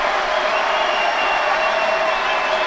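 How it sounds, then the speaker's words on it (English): Judo arena crowd applauding and cheering after an ippon at a Grand Prix in Tel Aviv, a loud, dense, continuous roar of clapping that fills the hall. "The crowd is really on their feet."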